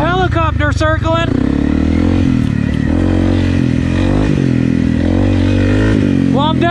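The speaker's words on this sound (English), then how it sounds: "I'm definitely not quiet anymore with this FMF Power Core 4." Honda CRF 250 Rally dual-sport motorcycle fitted with an FMF Power Core 4 exhaust, a loud steady engine drone riding off-road trails, with a voice heard briefly at the start and end.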